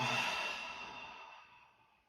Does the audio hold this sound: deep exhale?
yes